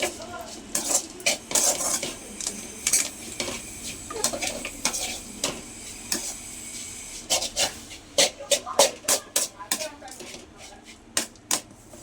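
A spoon scrapes and clinks against a pan as ground powder is stirred into cooked ponaganti leaves, with irregular metallic taps that come quicker and denser toward the end, close and fairly loud.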